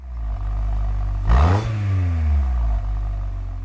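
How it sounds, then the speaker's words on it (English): Suzuki Jimny in the Gran Turismo video game giving one quick engine rev over a steady idle, the pitch rising sharply and then falling back down. "there's one little rev from the Jimny"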